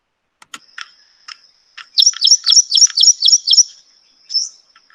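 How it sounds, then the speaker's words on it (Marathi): Common garden bird singing close by: a quick series of about seven bright, sharp chirps in a tight run, set among scattered faint clicks and ticks before and after. "आता हा पक्षी गातो, त्याच वेळा पंखातनं आवाज येतो."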